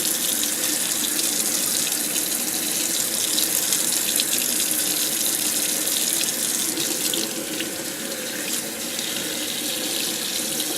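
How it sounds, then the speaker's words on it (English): A dyed silk necktie being rinsed under a running tap in a sink: a steady, close rush of flowing water that runs throughout and softens slightly near the end, with no talking. "And rinse that out some more."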